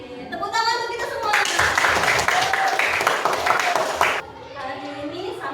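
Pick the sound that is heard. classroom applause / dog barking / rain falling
classroom applause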